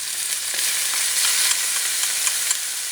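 Meat frying with sofrito and mixed juices in a pot for a Puerto Rican carne mechada roast, giving a bright, steady sizzle with small crackles and pops and no voices.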